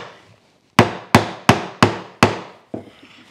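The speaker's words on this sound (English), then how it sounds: "Now, last chop, set the chisel so it's right on that gauge line." A chisel is struck five times in quick even succession while chopping a hand-cut mortise in wood, each blow a sharp loud close crack that decays quickly, followed by a softer final knock.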